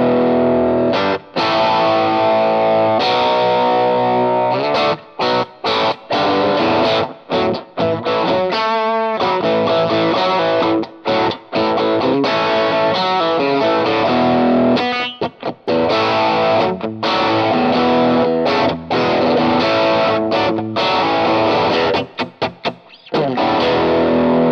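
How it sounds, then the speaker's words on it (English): Electric guitar through a handmade Greenchild Tribus Drive pedal with the gain rolled up, giving a loud, thick high-gain overdrive. The riffs are played steadily, with chords and brief stops. "when you roll up the gain control, the overdrive control, it actually sounds pretty good as well"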